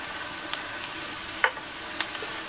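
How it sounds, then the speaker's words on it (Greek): Onion sautéing in a pan is stirred with a utensil, producing a faint, steady sizzle with a few soft scrapes and clicks, quiet and close. "ανακατεύουμε να σοταριστεί λίγο το κρεμμύδι μας"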